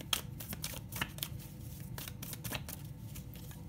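Oracle cards are shuffled by hand for a general Scorpio love reading, a soft steady riffle with sharper flicks and slaps of card edges at irregular intervals, close and fairly quiet.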